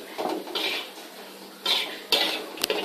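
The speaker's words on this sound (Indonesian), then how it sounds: "Aduk-aduk terus hingga bumbu matang dan agak kering ya" Spice paste for coconut-crusted fried chicken (ayam goreng serundeng) stirred in a pan: a few scraping and clinking utensil strokes against the pan, close and intermittent, with no talking.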